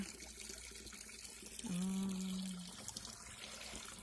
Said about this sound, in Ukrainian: Пускаю воду собі, е, щоб текла мені в тазик